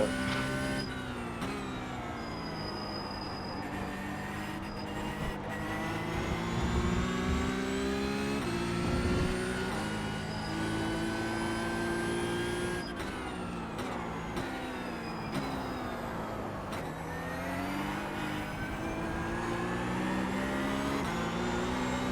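Race car engine in the iRacing sim, steady and loud throughout with continuous revving, upshifts and downshifts as the car is driven on track, no talking over it.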